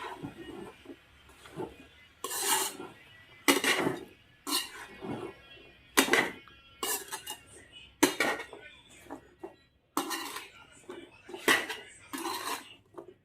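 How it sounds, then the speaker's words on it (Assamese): A utensil stirs food in a metal cooking pot after salt has been added, scraping and clinking in repeated close, sharp bursts with brief pauses between strokes and no talking. "অকণমান লৰাই ল'ম এতিয়া।"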